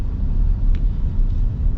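A 2026 Ford F-150 Platinum PowerBoost hybrid pickup accelerates, heard from inside the cabin as a steady low rumble of engine and road noise, smooth and subdued with no distinct revving.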